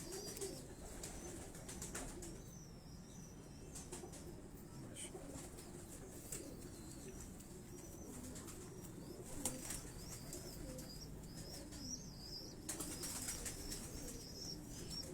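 Rooftop pigeons coo softly and flap their wings now and then over a steady background hiss, the birds sounding somewhat distant and the flutters brief and scattered.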